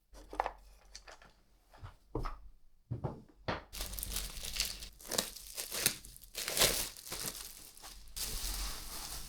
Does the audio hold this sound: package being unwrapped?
yes